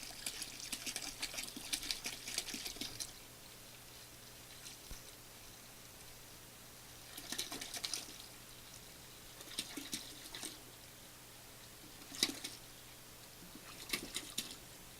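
Chilled water poured into a homebrew batch to top it up to 5 gallons, heard as several separate bursts of splashing and pattering liquid, fairly faint, with quiet pauses between the pours.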